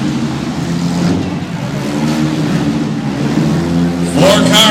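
Demolition derby cars at the Topsfield fair engine revving and rumbling loudly and steadily, with a sharp impact-like burst near the end, under an announcer's talk.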